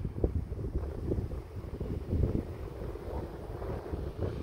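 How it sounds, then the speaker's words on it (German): Wind buffets the microphone with a constant low rumbling roar and uneven gusty thumps, loud and close, with no voices heard. "Ich hoffe, der Wind ist jetzt nicht so übel und ihr hört alles, was ich sage."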